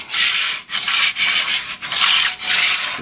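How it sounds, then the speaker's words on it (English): A handheld razor scraper scraping a surface clean during home plumbing repairs, loud and close, in steady rasping strokes with short pauses between them, no voices. "We got her good and scraped up as good as I could with that little razor scraper doodah."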